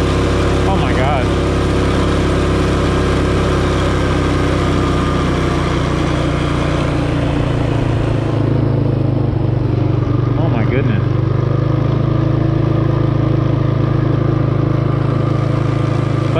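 rokON off-road motorbike running in the snow, its engine a loud, close, continuous rumbling drone that holds steady throughout with slight shifts in pitch.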